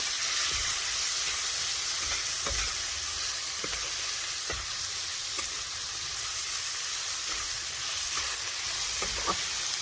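Cumin and chilli powder fry in a hot pan with a loud, continuous sizzle, broken by regular scraping strokes as the spices are stirred.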